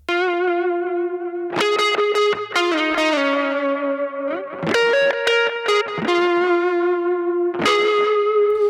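Guitar-style tone run direct through a chain of pedals into a ducked delay, heard as loud, sustained harmonic-rich notes in several bursts with echoing repeats and no talking.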